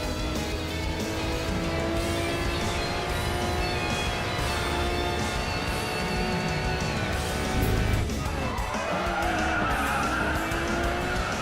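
Lamborghini Murcielago race car in the mobile racing game Racing Master, its engine roaring steadily with tire squeal and skidding, loud and continuous.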